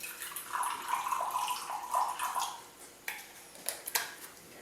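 Cool water is poured into a quarter-cup measure to dissolve a rennet tablet for home cheesemaking. A close, splashy stream runs for a few seconds, then gives way to a few short clinks and drips.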